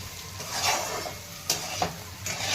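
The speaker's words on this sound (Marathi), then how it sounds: "धुवून घेतलेले हरभरे छान परतून घ्यायचे हरभरे तेलामध्ये" Black chickpeas are stirred and sautéed in oil in a pan, giving a continuous close sizzle with soft spoon scrapes and a couple of sharper clicks against the metal.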